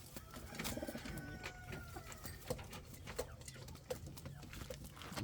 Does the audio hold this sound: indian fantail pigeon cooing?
yes